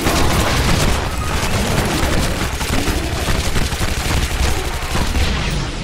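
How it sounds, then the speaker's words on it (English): Dense, loud gunfire from the PC shooter Shadow Warrior: a continuous barrage of rapid shots and booms that fills the whole stretch without pause, with no talking. "God, this gun is so weak."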